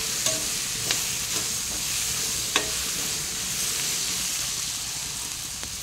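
Onions frying in a pan for fish pulusu, a steady close sizzle with a few sharp scraping stirs of a utensil scattered through, no talking.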